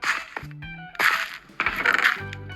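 Stones drop in the video game StoneFactory: several bright clinking, coin-like chimes in quick clusters with short musical tones between, close and clear.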